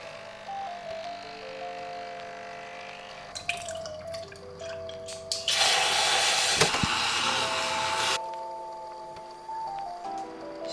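A milk frother whirs loudly in a single burst of a few seconds while frothing milk for coffee, set between quieter stretches with steady tonal background sounds.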